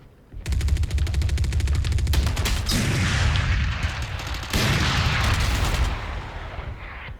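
Odin machine gun in Valorant firing long sustained automatic bursts, loud and close, with a brief break and then more heavy continuous fire, clearly dominant with no talk.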